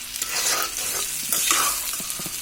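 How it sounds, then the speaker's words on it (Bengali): Garlic pickle being stirred in a hot pan, a continuous bright sizzle with scraping spoon strokes and small clicks, close and fairly loud, no voices. "এখন আবার এটাকে নেড়ে চেড়ে নিচ্ছি"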